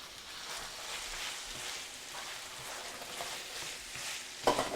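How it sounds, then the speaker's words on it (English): Cooked lasagna noodles poured into a kitchen sink to drain, a steady hissing rush of water and steam, with a sharper splash and clatter near the end. "I'm going to take this over to the sink and I'm going to drain the noodles"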